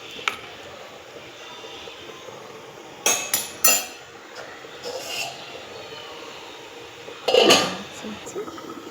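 A lid is set onto a pot of simmering fish curry, giving a few sharp metallic clanks and clatters in quick succession, then another louder rattle a few seconds later, over a soft background hiss.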